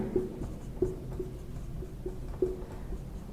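Chalk or marker writing on a board during a polity lecture: soft scratchy strokes with a few sharp taps, fairly close, over a low room hum, with no talking.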